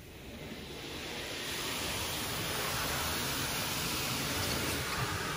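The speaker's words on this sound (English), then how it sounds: "You can hear the other car wash over there being used right now." An automatic car wash runs in a neighboring bay, heard as a steady broadband rush of spraying water that swells slightly and then holds constant, fairly distant and with no voices over it.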